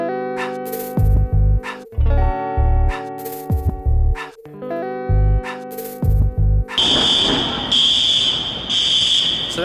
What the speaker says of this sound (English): So that just sounds like a fire alarm